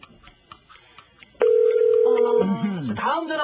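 A telephone line tone and ring sound as a radio show connects a call, a single steady tone that then bends and mixes with voices and studio noise.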